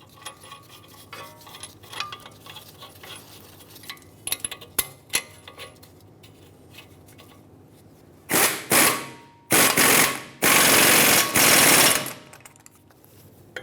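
An impact tool on a rear brake rotor backing plate of a 2003-2009 Dodge Ram 2500, tightening the mounting nuts: after scattered metallic clinks, several loud bursts of rapid hammering rattle in close succession.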